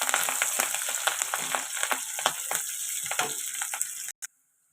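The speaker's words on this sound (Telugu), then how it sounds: "ఉల్లిపాయలు ఇలా ఫ్రై అవుతున్నాయి కదండి!" Onions sizzling and frying in a pan for a Telugu brinjal and green pea curry, a steady dense crackle with occasional stirring clicks, loud and close, ending abruptly in silence.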